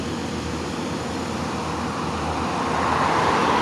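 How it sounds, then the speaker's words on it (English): A car passes on a street beside a walking trail near the Lake Ontario State Parkway in Greece, NY, a steady broadband road rumble that swells toward the end, with no voices. "Person's driving through."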